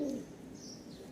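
A male pigeon gives a short, soft coo, faint and slightly distant against a quiet background, lasting only a moment.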